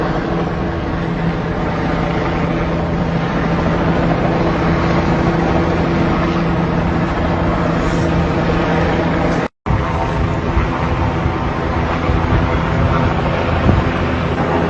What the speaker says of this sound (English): More and more helicopters.